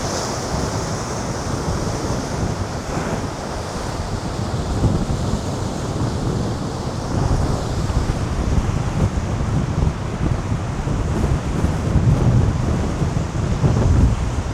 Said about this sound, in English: Here's this wild and raging sea.